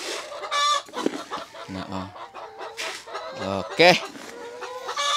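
Dominant CZ F1 and RIR chickens on a Cebu poultry farm: close, busy clucking and squawks, including low repeated calls, with a person speaking briefly among them.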